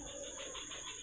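Pigeons or doves coo softly in an outdoor aviary, giving a low, steady murmur with a faint high tone running throughout, close and fairly quiet, with no talking.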